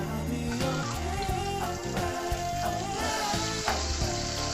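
Red onion sizzles and crackles in a pan with a little oil for stir-fried vegetables, a loud, steady frying hiss heard up close with no talking.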